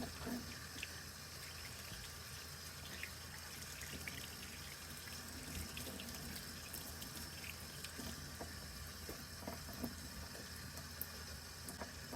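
Tap water runs steadily into a sink while Sodastream parts are rinsed, a continuous faint splashing trickle with small irregular drips and clinks, no voices.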